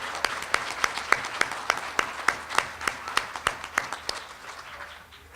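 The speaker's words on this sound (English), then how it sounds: "Can we just give them a round of applause?" Applause for graduates at an evening community college GED graduation ceremony, with steady individual claps ringing out in an even rhythm, fairly close, then slowly thinning toward the end.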